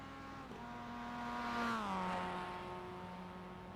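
Mazda Cup race cars crossing the start-finish line at Imola in a sim racing game, a faint engine note rising and falling as one car sweeps past, its pitch dropping after the pass.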